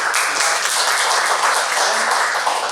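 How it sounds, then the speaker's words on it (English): Steady, dense applause from an audience at a Toastmasters club meeting in Dubai after a speech, loud and continuous with no gaps and no voices. "Let's give a round of applause"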